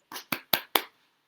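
A woman on a live stream claps for herself: four distinct, sharp, close hand claps in an even rhythm, then silence.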